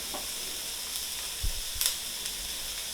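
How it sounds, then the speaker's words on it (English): Tofu fries in a hot pan with a steady, close sizzling hiss, broken by a few soft clicks and pops near the middle. "we're going to fry the tofu now"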